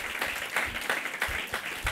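A church congregation breaks into steady applause, with dense overlapping clapping throughout and a brief murmur of voices underneath.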